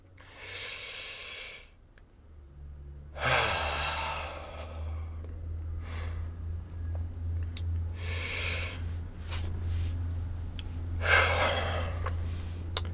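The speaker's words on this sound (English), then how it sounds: "pay attention to my breath right now and listen to it" Slow, audible breaths close up, each inhale or exhale a broad hiss lasting a second or two, separated by quiet pauses over a steady low hum.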